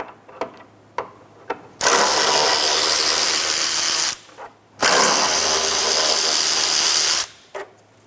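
Power ratchet backing out the two 10 mm bolts on the airbox shroud in the engine bay of a 2007-2012 Nissan Altima. It gives two sustained, close whirring runs of a few seconds each, with light clicks and taps before and between them.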